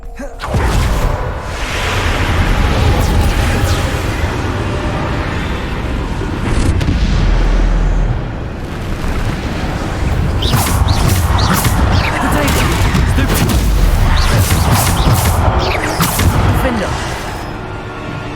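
Heavy booms and crashing blasts from the Bombarda spell in Hogwarts Legacy, loud and repeated through a battle with whooshes and debris, while a voice speaks over the din.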